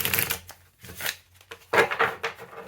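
Tarot cards with a linen finish being shuffled in several quick riffling bursts, a crisp papery flutter with brief pauses between, close by and fairly quiet.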